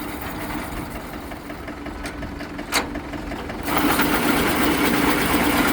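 A heavy duty tractor winch gearbox runs in forward gear, a steady mechanical whir with a rhythmic ticking that jumps louder and denser partway through, then keeps running evenly.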